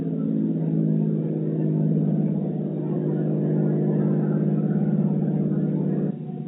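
Piston engines of a de Havilland C-7A Caribou (DHC-4) throttled back to 18–20 inches of manifold pressure on approach, a steady loud low droning hum that holds evenly and dips slightly near the end.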